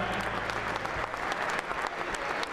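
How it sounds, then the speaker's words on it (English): Audience applause for two show hosts at a Friends of NRA event, a steady dense wash of clapping throughout, fairly loud and continuous with no voices on top. "Let's give them a big round of applause."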